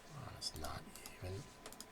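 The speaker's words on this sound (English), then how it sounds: "I'm gonna have to manually type that in." Someone types on a computer keyboard, with soft, close key clicks in short irregular bursts over about two seconds, mixed with quiet speech.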